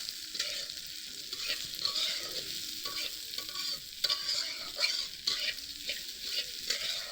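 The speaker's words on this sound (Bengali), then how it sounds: "ডালটাকে একটু ভালো করে কিন্তু ভাজা করে নেব হালকা পরিমাণ" Dal lightly frying in a pan while being stirred, a close, steady sizzle broken by rhythmic scraping strokes of the spoon every second or so, with no voices.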